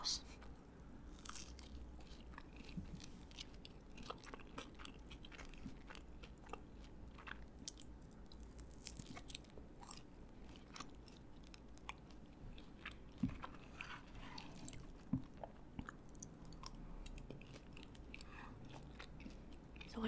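Close, quiet crunching and chewing of crispy chicken skin waffle fries dipped in burger sauce goes on steadily, with soft bites and mouth sounds and a few sharper crunches, and a voice talks now and then.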